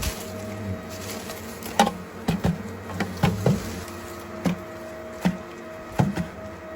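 Golden-ring giant hornets drone around their nest outdoors, a low steady buzz up close punctuated by a series of sharp irregular knocks and taps.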